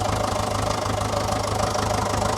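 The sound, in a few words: Fordson Super Major tractor engine running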